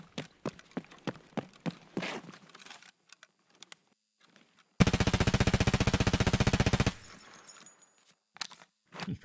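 A rifle firing full-auto in Escape from Tarkov: a few spaced single shots, then one long, loud, rapid burst lasting about two seconds, with brief rattling handling sounds around it.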